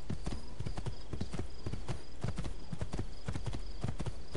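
Horse hooves clop in a fast, even galloping rhythm in Assassin's Creed 2, loud and close throughout, with no talk over them.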